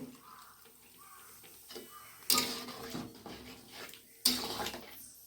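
Boiled vegetable water poured into a pan of oats: a soft steady watery trickle with two sharper splashy bursts, fairly faint and close, with a faint background tick.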